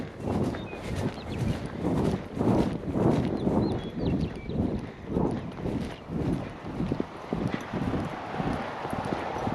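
Rhythmic hoofbeats of a horse loping, steady repeated thuds close by, with light wind noise in the background.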